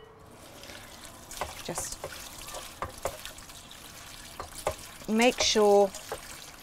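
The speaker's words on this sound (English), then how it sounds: "First thing I'm going to do is wash the spinach." Fresh spinach is rinsed under a running tap at a small caravan kitchen sink, a steady trickle and splash of water with soft clatter, while someone talks over it.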